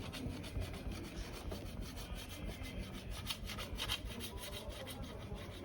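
Steel trowel polishing Venetian plaster on a bathroom wall toward a marble finish, a steady close scraping rub with repeated short strokes, no talking.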